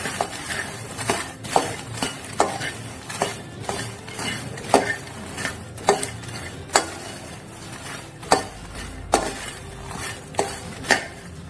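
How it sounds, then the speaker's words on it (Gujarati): Roasted makhana (fox nuts) tossed with salt and chaat masala in a pan, giving a steady series of dry, crunchy scraping and clattering strokes roughly every second, close and fairly quiet, with no voices. "હવે આપણે મિક્સ કરી લઈશું।"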